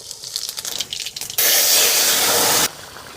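Cumin seeds hit hot mustard oil with a sudden loud sizzling hiss that lasts about a second before cutting off, following softer crackles and rustles.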